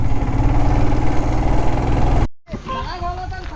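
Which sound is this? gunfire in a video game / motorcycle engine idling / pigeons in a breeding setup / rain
motorcycle engine idling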